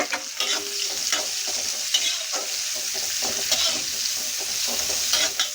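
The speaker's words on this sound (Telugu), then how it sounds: "నెక్స్ట్ వచ్చేసి ఆనియన్స్ వేసుకోండి ఫ్రెండ్స్." Onions fry in a pan for an eggplant and potato curry, a close, continuous sizzle broken by frequent scraping stirs of a spatula against the pan.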